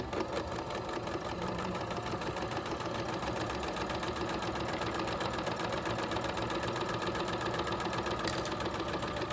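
Continuous steady motorized whir of a sewing machine topstitching fabric along the presser foot line, running without pause throughout at an even, moderate level.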